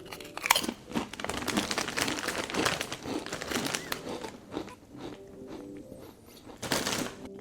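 Salt and vinegar ripple-cut potato chips are bitten and chewed close up, with loud, dense, continuous crunching that thins out toward the end before a final burst of crunches.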